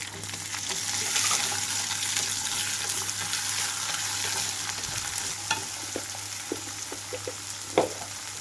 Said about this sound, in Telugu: ఇప్పుడు ఇందులోకి కట్ చేసి పెట్టుకున్న వెజిటబుల్స్ వేస్తున్నాను